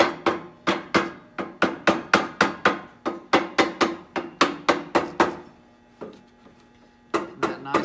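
Rubber mallet tapping a backrest onto a Victory Cross Country or Magnum motorcycle, a rapid series of sharp, close knocks in steady rhythm, a brief pause, then a few more strikes.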